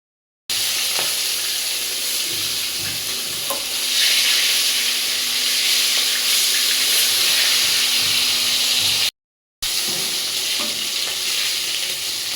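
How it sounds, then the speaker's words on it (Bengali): Rohu fish fry in oil in a pan, a constant loud sizzle and hiss with occasional stirring, interrupted briefly by two short silent gaps. "মাছগুলো আমার ভাজা হয়ে গেছে, তুলে নেব।"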